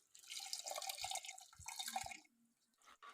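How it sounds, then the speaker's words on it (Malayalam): Tamarind water poured into a pot of half-cooked taro leaf curry, a close splashing trickle for about two seconds before it tapers off into a few soft drips, with no talk. "ഇനി നമുക്ക് ഈ പുളിവെള്ളം താളിലേക്ക് ഒഴിച്ചു കൊടുക്കാം."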